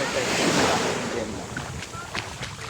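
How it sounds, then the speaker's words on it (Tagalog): Steady surf washes against the shore in Morong, Bataan, a broad rushing roar with faint voices underneath. "alon na lang yung maririnig niyo sa mga sinasabi namin talaga"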